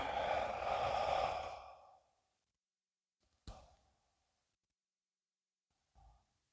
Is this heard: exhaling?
yes